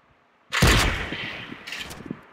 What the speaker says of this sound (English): Oh shoot, someone's shooting me.